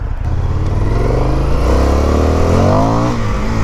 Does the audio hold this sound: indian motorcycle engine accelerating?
yes